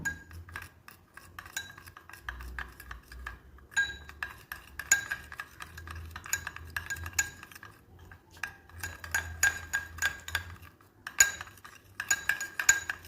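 A spoon mixes natural hair dye with black seed oil in a small bowl, giving close metallic clinks and scrapes in quick irregular bursts with short pauses. No one speaks.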